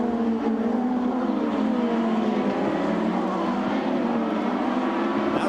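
Engine of a Champ Car race car at the 2003 Cleveland round, a loud continuous high-pitched drone with shifting tones, commentary-free.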